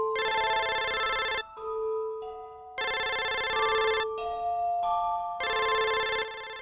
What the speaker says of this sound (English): he suddenly heard a phone ringing